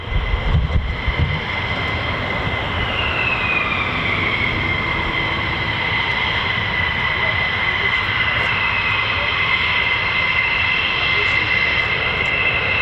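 Fighter jet, an F-15 or F-35, taxiing at RAF Lakenheath, a steady loud engine whine with rising and settling tones held throughout, fairly close and continuous, with faint talk underneath.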